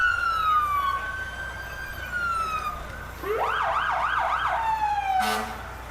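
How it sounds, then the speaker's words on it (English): Fire truck sirens wailing at a St. Patrick's Day parade, then switching to a rapid warbling yelp, ending with a short blast of the horn. Loud and fairly close. "it's nice to hear their sirens and horns in a non-official way."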